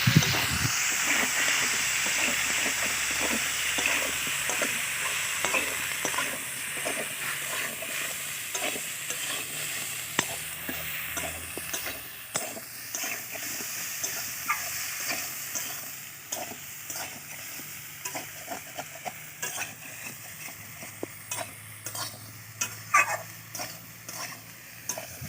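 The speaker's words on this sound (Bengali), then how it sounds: "তো এখন সেদ্ধ করা ইঁচড়টাও দিয়ে দেবো আলুর সঙ্গে, দিয়ে একটু ভেজে নেব।" Boiled young jackfruit and potatoes fry in hot oil in a pan, with a constant sizzle and hiss broken by frequent scraping, clattering stirs of a spatula, growing busier and more percussive toward the end.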